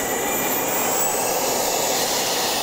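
Eurosport RC model jet, a sport version of the Eurofighter with a smoke system, flying at an airshow: a loud, steady turbine roar with a sustained high whine, continuous throughout with no talk.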